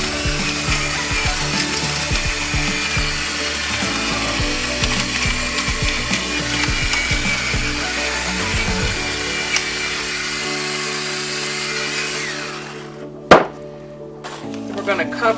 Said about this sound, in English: I love my automatic grinder.